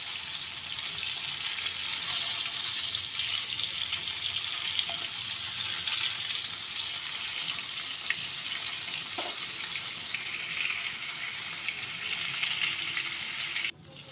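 Rui fish fries in hot oil in a home kitchen, a steady loud sizzle and crackle running continuously, with a few faint clinks, ending in a short clatter.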